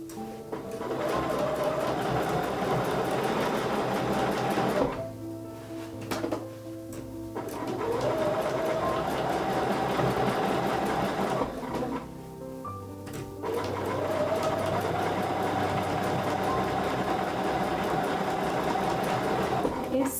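A sewing machine stitches through a quilt sandwich in fast, steady runs of needle chatter, broken by two short pauses where the quilt is turned, with a faint voice nearby.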